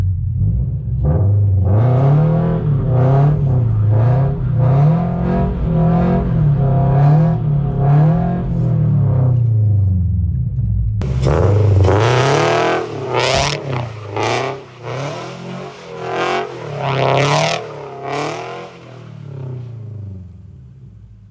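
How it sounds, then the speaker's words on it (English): A Toyota GR86 engine revs hard and repeatedly during a clutch-kick donut, loud and close. A steady wavering drone gives way to sharp, rising bursts and bouncing revs in the second half. "This time I'm going to try and initiate the donut by clutch kicking instead"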